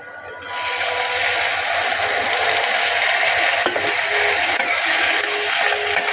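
Potatoes frying with a masala of garlic and chili for a mushroom curry, a continuous close sizzle with faint stirring scrapes running evenly after a brief quieter start.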